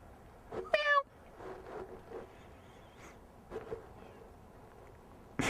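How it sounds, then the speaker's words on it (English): A cat in a backyard gives one clear, rising meow close by, followed by quieter rustling and faint background sounds. "Ooh, there's a cat."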